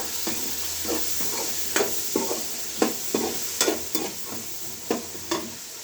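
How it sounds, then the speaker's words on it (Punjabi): Peas frying in a pan as vegetables for a cauliflower and pea curry are cooked, with a steady sizzle and sharp, irregular scrapes and clinks of a spoon stirring them up close. "ਅਸੀਂ ਮਟਰ ਪਾ ਲਿੱਤੇ ਇਹਨਾਂ ਨੂੰ ਹਿਲਾ ਲਾਂਗੇ ਚੰਗੀ ਤਰ੍ਹਾਂ"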